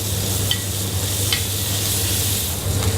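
Lardons sizzling in hot olive oil in a pan over high heat, a steady close frying hiss with a few faint clinks of a utensil, and no voices.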